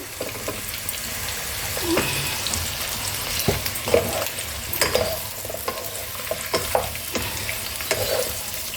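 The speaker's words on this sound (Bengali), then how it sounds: "পেঁপেটা দিয়ে একটু নাড়াচাড়া করবো" Papaya pieces are stirred into carrots already frying in a pan for chicken soup, giving a steady sizzle with repeated scraping and stirring clatters close by.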